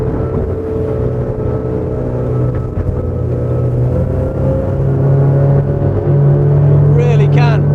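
A Fairline F//Line 33 motor boat powers and accelerates through a turn at sea, its engines a loud, steady low rumble that swells and rises in pitch toward the end, with splashing water.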